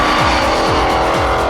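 All-electric SCR1 race car heard onboard on a track, a loud continuous whine and road roar with repeated short sweeping tire squeals, no talking.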